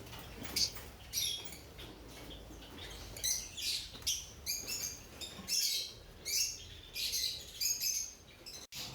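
A colony of pet birds kept without heaters or extra bulbs chirps in quick, bright bursts of high tweets, fairly close and busy, with a soft patter of movement underneath.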